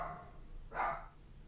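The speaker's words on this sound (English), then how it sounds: "I could just hear my dog upstairs going on about a 10-minute barking rant" A dog barks upstairs, one muffled, distant bark rising briefly out of a quiet room hum.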